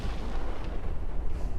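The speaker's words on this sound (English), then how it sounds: "the explosions are becoming less and less distant. The sound is deafening." Booming explosions roll in continuously like distant artillery fire, a dense low rumble with scattered bursts that grows heavy and deafening, with no voices over it.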